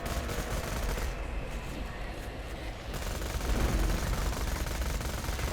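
Rapid gunfire from the Bada Boom weapon in Borderlands: The Pre-Sequel, a dense continuous fusillade of shots running through the whole stretch, loud and close with no break.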